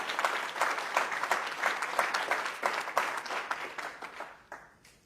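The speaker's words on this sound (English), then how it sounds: "So give yourself a round of applause." A summit audience claps in a steady round of applause, many hands beating in a fairly even rhythm at moderate distance, tapering off and fading out toward the end.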